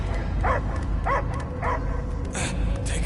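A dog barks in the Guardians of the Galaxy video game, giving three evenly spaced yelping barks followed by a higher whimpering yip, moderately near over a low steady background hum.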